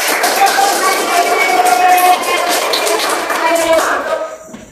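Children clapping together in a classroom, a dense burst of applause that holds steady, then thins and fades out at the end, with young voices mixed in.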